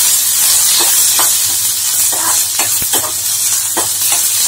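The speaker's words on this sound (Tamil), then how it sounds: "சேர்த்துட்டு வதக்கிக்கோங்க" Curry leaves and onion sautéing in a pan, a steady close sizzle and hiss with intermittent scraping stirs throughout.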